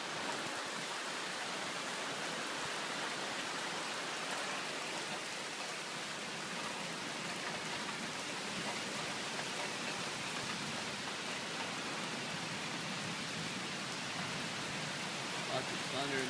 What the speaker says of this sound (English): This rain traveling in the sheets across the valley here